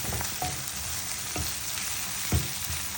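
Fish frying in a pan with oil, a steady close sizzle throughout, broken by a few short sharp sputters and pops, with no voices.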